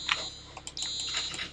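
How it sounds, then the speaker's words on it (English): A high, steady electronic fire alarm tone sounds continuously inside a Roblox Brookhaven game, layered with scattered clicking and tapping noises. "Have I set the fire alarm off?"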